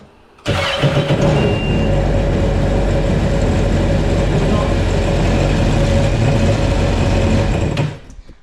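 A Yamaha jet ski engine starts abruptly and runs at a steady, loud idle close by for several seconds, then cuts off near the end.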